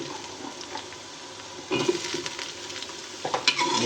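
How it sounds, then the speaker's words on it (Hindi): Potatoes and onions fry in a pan with a soft sizzle, then louder bursts of scraping and clattering as a spatula stirs them, close by and without talk. "इसी प्याज के साथ ही मैं डालूंगी आलू"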